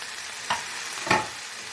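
Chopped onions and green chilies frying in a pan over medium flame, a steady close sizzle with two brief stirring scrapes and no voices.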